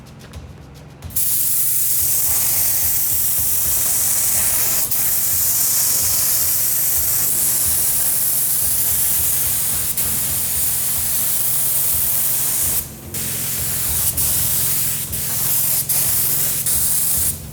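A spray gun lays a cheap Raptor-style bedliner coating onto a ute, a loud, steady airy hiss running almost without break, with one brief trigger release and a few short pauses near the end.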